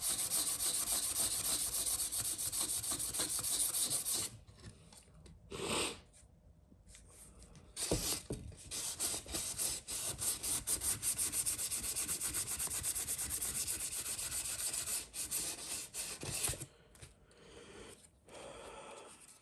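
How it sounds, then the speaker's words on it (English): Sanding along the edge of a carbon fiber part, with a rough rubbing scrape that runs steadily and then continues as shorter uneven strokes, close by with no talking. "as we sand and as we keep going, that edge is gradually getting straight"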